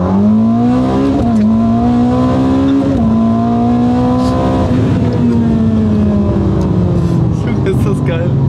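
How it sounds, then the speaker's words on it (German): Ferrari engine revving loudly as the driver accelerates, a strong rising and falling tone with a clear pitch shift, heard from inside the car, with people talking over it. "Also wenn ich jetzt so Gas gebe."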